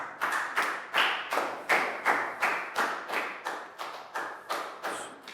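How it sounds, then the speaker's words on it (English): A classroom group claps in unison for a student, about a dozen sharp, evenly spaced rhythmic claps, fairly close and moderately loud. "High five, round of applause for Lak Gao."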